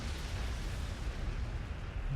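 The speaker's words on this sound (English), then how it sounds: "explosions are happening in my ear" Explosions in the Warhammer 40,000: Gladius strategy game form a dense, continuous low rumbling roar, loud and unbroken for a couple of seconds with no talk.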